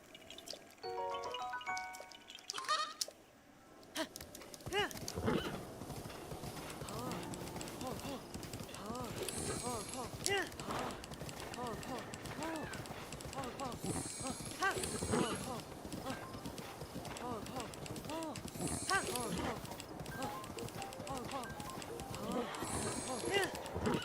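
Horse hooves clip-clopping with occasional whinnies in a video game near a stable, a steady trotting rhythm under continuous background game sounds and a talking voice.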